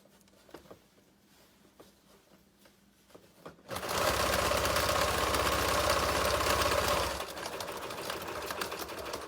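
Sewing machine stitching a fabric face mask for a medical center, running in one steady, loud burst of rapid needle strokes from about 3.7 to 7 seconds, with quieter handling sounds before and after.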